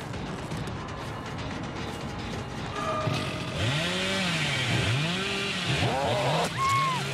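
A chainsaw revving in the video game Dead by Daylight, a rising, wavering engine whine that swells in repeated surges over the second half, loud and close above a low background drone.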